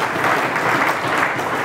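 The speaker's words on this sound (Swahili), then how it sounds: "tumpigie makofi ya kutosha" A crowd at a political rally bursts into sustained applause, steady and loud from start to finish. The clapping is dense and continuous with no talk over it.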